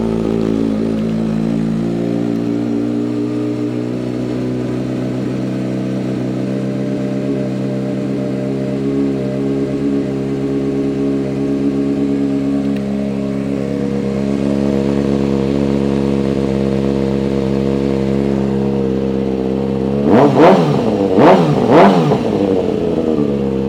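A 2012 Kawasaki ZX-6R Ninja motorcycle engine idles steadily close by, then gives three sharp, quick throttle revs near the end, each rising and falling fast.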